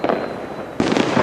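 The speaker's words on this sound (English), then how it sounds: "the fireworks and firecrackers are continuing just as they" Fireworks and firecrackers exploding across a Chinese city for Lunar New Year, a dense crackling burst followed by a sudden louder wave of rapid pops.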